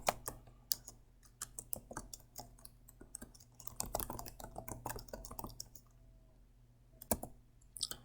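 Computer keyboard typing, close and faint, an irregular burst of quick key clicks with short pauses and a low steady hum beneath.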